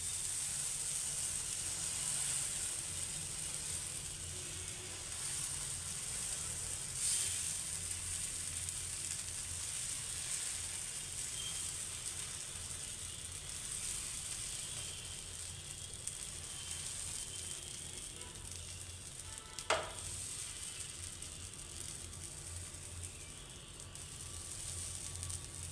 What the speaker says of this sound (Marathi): आता हे पीठ टाकायचं आहे आपल्याला आणि ते छान पसरवून घ्यायचं आहे